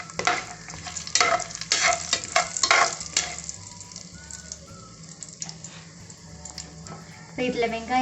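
Whole spices, cinnamon, fennel seeds, cloves and cardamom, dropped into hot oil for an egg biryani, sizzling and crackling steadily with a few stirring scrapes near the end.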